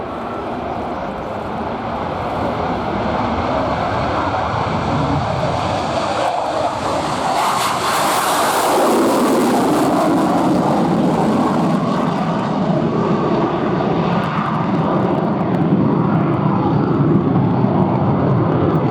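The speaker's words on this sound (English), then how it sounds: "the Saab JAS 39C, Gripen." Swedish Air Force Saab JAS 39C Gripen jet flying at an air show, heard as a loud, continuous roar that swells and shifts in pitch as the aircraft passes.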